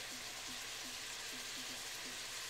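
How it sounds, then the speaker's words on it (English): Cajun chicken pasta sizzling in a pan, a steady loud hiss of frying with faint crackles throughout, close and continuous with no talking. "Just listen to the sizzle."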